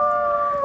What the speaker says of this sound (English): Howl with me.